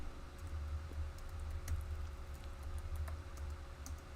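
Quick, light keystrokes patter on a computer keyboard in uneven bursts. A low steady hum runs underneath, and no one speaks.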